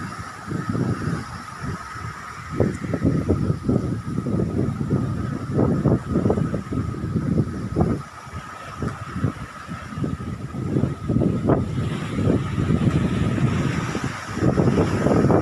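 Steady wind buffets the microphone in low rumbling gusts by moored fishing boats, with a faint engine hum and water noise in the background; no talking.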